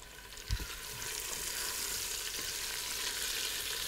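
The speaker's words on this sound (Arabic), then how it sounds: "اسمع توا باش تحط جوست الطماطم تقليها" Tomato paste frying in a pan for a bulgur salad, a steady close sizzle that swells after a brief clatter at the start and holds even throughout.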